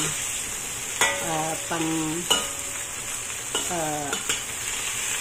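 Garlic, ginger and scallion frying in hot oil, a bright steady sizzle with a few sharp utensil knocks and some squeaky scraping strokes across the pan, nearby, with no talking.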